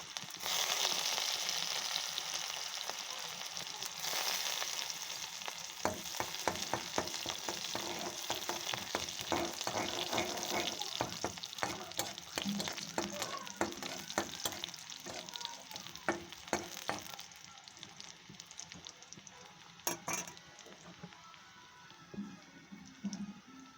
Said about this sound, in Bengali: শুকনো লঙ্কা, পেঁয়াজটা রসুনটা একটুখানি রেখে দিয়েছিলাম, ওইটা দিয়ে দেবো সম্বারে